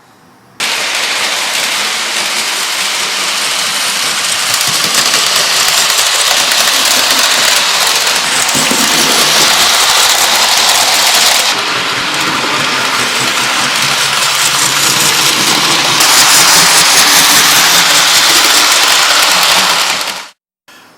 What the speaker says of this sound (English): Nice running locomotive